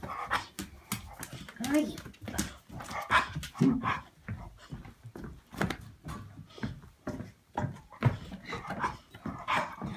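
Young puppy panting with faint whimpers in a home, heard close up in bursts while people greet it warmly and talk over it throughout.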